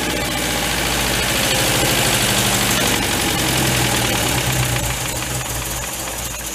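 A 1950s-style MG TD barn find, parked for 45 years, idles steadily after being restarted. The engine runs at an even, continuous mid-low rumble with a slight knock throughout, with no talking.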